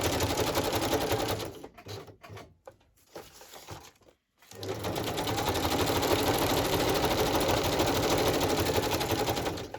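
A sewing machine stitching through a glued journal page runs in a steady, close mechanical whir, stops for a couple of seconds of scattered handling clicks, then resumes its continuous buzzing drone.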